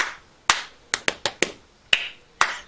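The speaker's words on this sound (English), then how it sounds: "Crabby claps his rhythm first again." A sensory story for children is punctuated by sharp, close claps in an uneven rhythm, about eight crisp hits with short gaps between them and nothing else behind them.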